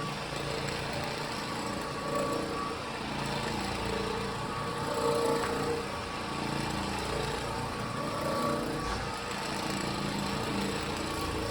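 An orbital floor machine fitted with a microfiber bonnet and hog's hair pad runs over hardwood floor in a large home, with extraction going at the same time, making a constant loud motor drone with a rough buzzing texture throughout.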